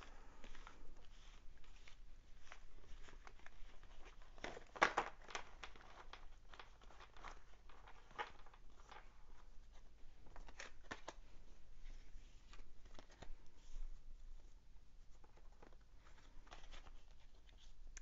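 A deck of tarot cards is shuffled by hand, producing soft, faint, continuous riffling and slapping sounds in a quiet room.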